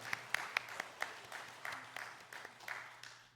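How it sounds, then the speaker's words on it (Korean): Scattered hand claps ring out in a reverberant church during a Sunday service, a few sharp claps at first, then thin, soft applause that fades away. "하나님께 영광의 박수를 올려드리겠습니다."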